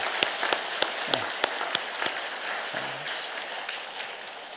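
Church congregation clapping after a baptism during Sunday worship, a soft scattered patter of hands with a few sharper distinct claps standing out early and a brief murmur of voice.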